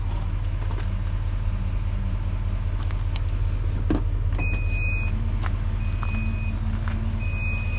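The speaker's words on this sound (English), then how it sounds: "this one's got power lift gate" Power lift gate on a Duramax L5P pickup truck running, with a steady low motor hum throughout and short high electronic beeps repeating in the second half.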